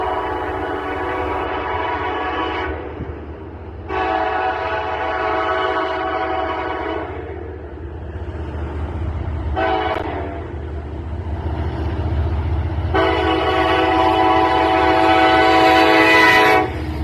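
K632, a freight train led by KCS locomotives, passes close and loud with a steady low rumble of wheels while the horn blows several long blasts, the last one held longest.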